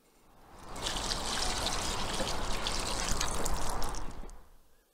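Homemade dry wine poured in a steady splashing stream, swelling in over the first second, holding for about three seconds, then tapering off, close and fairly quiet with no talk.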